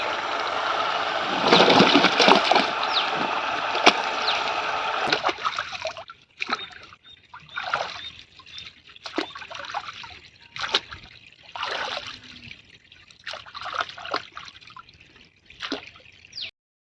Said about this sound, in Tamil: கிழங்கு மண்ணாடு இருக்குது தொட்டியில் போட்டு கழுவிக்கலாம்